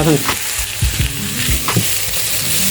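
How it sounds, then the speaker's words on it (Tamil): Onions sauté in a pan with curry leaves for prawn rice, giving a loud close sizzle with sharp scraping stir strokes repeating every half second or so, and no talk. "வெங்காயம் நல்லா வதங்கி இருக்குது."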